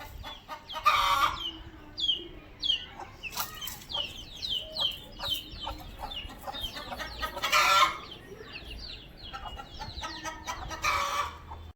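Chickens and chicks cluck and cheep around a cage, with repeated bursts of clucking and high peeping calls spread across the scene, fairly close, no speech.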